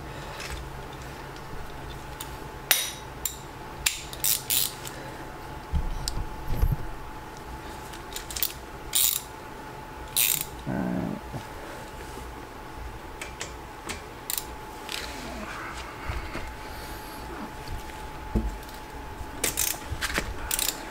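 A wrench works a 13mm bolt on a brake caliper during a brake pad swap on an SS 1LE, giving a series of irregular ratcheting clicks and metallic ticks over a faint, steady background hum.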